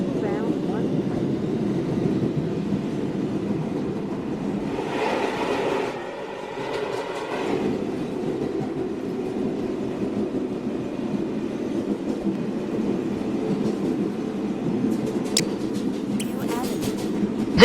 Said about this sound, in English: This is the Manhattan-bound 1 train.